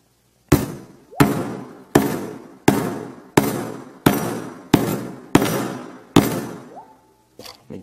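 A cobalt hammer strikes a Samsung Galaxy Note 3 phone in eight loud, sharp, evenly spaced blows about 0.7 seconds apart, each with a short ringing decay, followed by a couple of faint light knocks.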